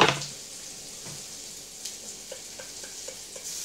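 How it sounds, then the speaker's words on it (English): Cannelloni sizzle and spit in a frying pan, a steady close hiss with small crackles and occasional stirring scrapes, heard alone. "while that's sizzling and making noise that food's supposed to make"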